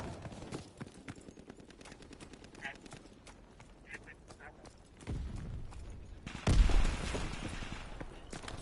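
Gunfire in a game battle: scattered shots crackling in bursts, with heavier, louder volleys building later on, mixed with voices and other combat noise.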